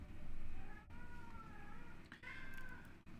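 A cat meows repeatedly in short, rising cries, moderately near over a low steady room hum, with no talking.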